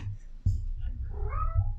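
A cat meows twice, short and close, with faint room noise around it.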